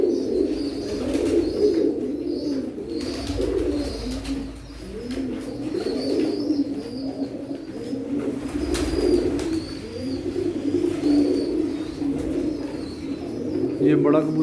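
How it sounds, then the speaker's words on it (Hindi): Pigeons coo in low, repeated throaty calls close by, continuing throughout, with soft voices murmuring faintly underneath. "ये जो कबूतर बोल रहा है वो भी"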